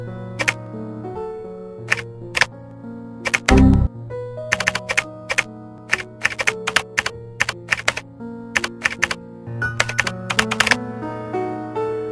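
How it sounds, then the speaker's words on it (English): Fingers tap briskly on a computer keyboard at close range, with irregular bursts of crisp clicks, short pauses and one heavier thunk partway through. "he keeps typing O's and 1's"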